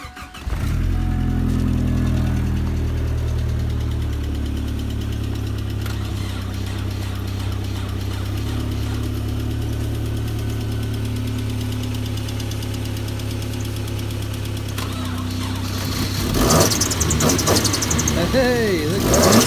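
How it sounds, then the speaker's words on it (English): Nissan 240SX engine running at a steady, rough idle with a low rumbling drone throughout, then revving up briefly near the end, close and loud, with people talking faintly over it. "Crank up the buggy."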